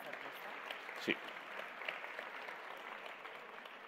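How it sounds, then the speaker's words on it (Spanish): An audience at a national education forum applauds the infographic artist, a soft, even wash of clapping with one louder burst near the middle and a brief spoken reply over it. "un aplauso para ella también"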